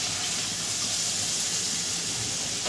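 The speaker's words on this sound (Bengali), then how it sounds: "মিক্সির বাটিটা ধুয়ে অল্প একটু জল দিয়ে দেবো।" A mixer jar is rinsed with a little water, which makes a short, steady rush of running, splashing liquid, close and even throughout.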